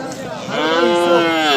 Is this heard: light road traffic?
no